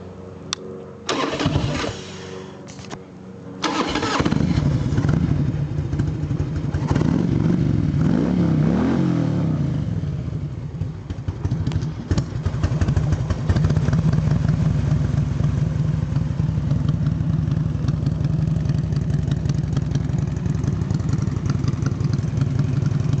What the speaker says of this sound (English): I'll fire it up here and I'll let you hear it